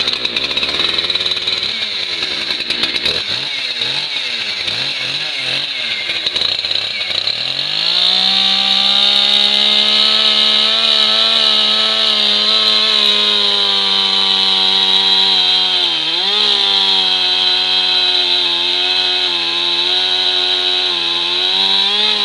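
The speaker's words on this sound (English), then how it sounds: "chainsaw" A chainsaw revs up loudly and then runs steadily close by, its engine roaring as it cuts through wood.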